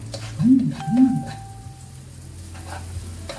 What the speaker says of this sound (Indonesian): Bawang merah sudah masuk. Tunggu sampai harum ya numisnya.